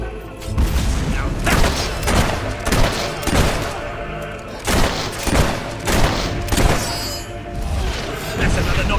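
Battle gunfire in Fable 3 rattles in loud, repeated volleys, with dense bursts and heavy booms arriving every second or so, some voices shouting through the din.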